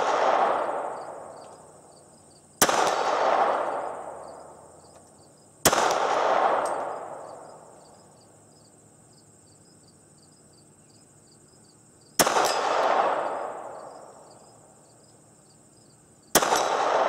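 Ruger SR40c pistol fired at standing targets outdoors, four sharp loud shots spaced irregularly, each ringing out and decaying over a couple of seconds, with insects chirping steadily in the background.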